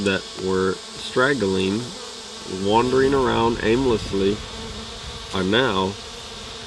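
A honeybee swarm gathers on a queen catcher, a loud droning buzz rising and falling in bursts as bees fly close by, with someone speaking briefly.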